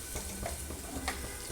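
Mustard seeds, cumin and chana dal frying in hot oil for a tempering, a steady close crackle and sizzle with faint stirring and no voices.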